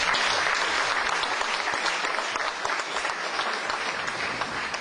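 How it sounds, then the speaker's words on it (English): A round of applause for municipal staff at a Barnstable town gathering, dense, sustained clapping from an indoor audience. "Please give them a round of applause."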